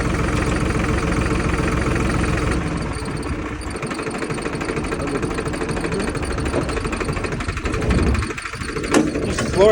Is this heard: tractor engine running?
yes